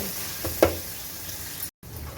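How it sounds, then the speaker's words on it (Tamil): Tomatoes sautéing in oil for a chicken gravy give a faint, steady sizzle with a couple of soft stirring scrapes, close by and with no voices, ending in a brief cut to silence. "பார்த்தீங்கன்னா இப்போ தக்காளி நல்லா வதக்கி விட்டுக்கலாம்."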